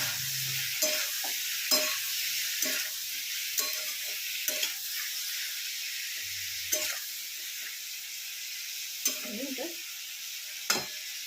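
Ridge gourd being stirred in a pan, with a spatula scraping and knocking in repeated strokes over a constant background sizzle, close and fairly loud.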